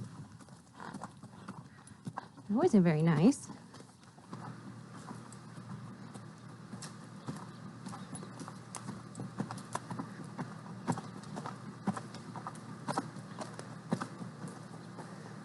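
A young horse, about a year old, clip-clops on a ranch, with a burst of louder hooves and whinny-like sounds early on, then steady footfalls continuing. A person speaks briefly.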